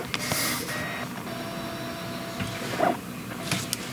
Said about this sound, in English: the motor on this is pretty noisy